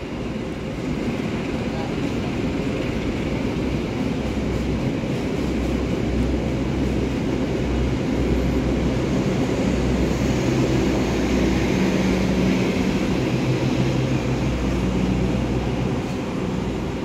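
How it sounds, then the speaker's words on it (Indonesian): The Argo Parahyangan passenger train, running from Jakarta Gambir to Bandung, rolls straight through a station without stopping, a steady loud rumble of wheels and engine that holds for the whole stretch with no pause. "Melintas langsung kereta api Argo Parahyangan dari stasiun Jakarta Gambir"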